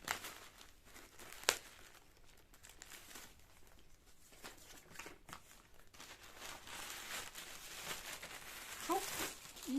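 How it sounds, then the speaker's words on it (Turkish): Crinkling and rustling of plastic wrapping as a parcel of books is handled and pulled open, with a sharp tearing snap early on; fairly quiet and close. "Şimdi sizlerle birlikte kargomuzu inceleyelim. Biraz açayım."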